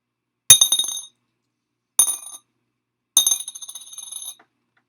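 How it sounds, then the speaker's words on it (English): Pennies are dropped one at a time in three separate bursts, each a bright metallic clink followed by a short jingling rattle, close and clear with silence between. "I'm going to take some pennies off. And I want you to think about how many clinks you hear."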